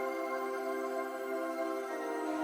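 A high, harsh Omnisphere synth pad holds a steady, bright sustained chord on its own, even and unbroken throughout.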